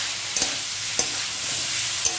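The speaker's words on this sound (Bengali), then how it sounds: "দেখো ঝিঙেটা তত অবধি কষাতে হবে যতক্ষণ না ঝিঙে একদম নরম হয়ে যাচ্ছে।" Ridge gourd being sautéed with spices in a pan for a Bengali pabda fish curry gives a steady, close sizzle, broken by three sharp clicks of a spoon against the pan.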